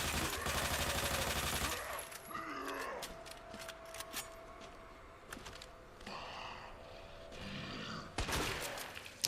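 Leon's gun in the 2019 Resident Evil 2 remake fires a loud, dense burst of shots, then quieter scattered in-game noises and thuds follow.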